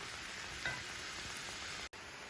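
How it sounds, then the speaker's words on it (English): Vegetables frying in a stir fry pan give a steady, fairly faint sizzle throughout, with a small clink and a momentary dropout near the end. "I don't want my vegetables to get too soggy, but I want to make sure they're cooked too. It's looking more like a stir fry already."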